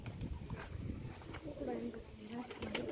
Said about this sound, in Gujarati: જો નીચે કબૂતર ઉપર એ કબૂતર